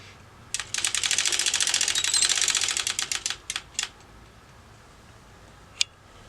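A hand-operated circular sock knitting machine is cranked, giving a rapid, steady run of light metallic clicks that slows into a few separate ticks, then silence and one last sharp click.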